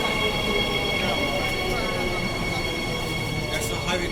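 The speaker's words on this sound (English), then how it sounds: "That's the High Wycombe train." A commuter train bound for High Wycombe runs steadily past at close range, with a continuous rumble, a faint high wheel whine and occasional rattles.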